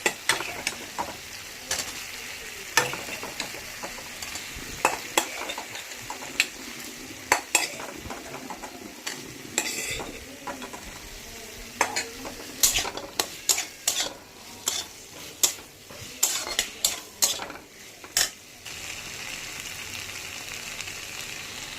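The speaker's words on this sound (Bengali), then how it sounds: "ভালো করে মশলার সঙ্গে সবজিগুলি ভাজা হয়ে গিয়েছে" Vegetables fry with spices in a pan under a soft, steady sizzle, broken by repeated sharp scrapes and clacks of a spoon stirring against the metal, close and irregular, with no voices.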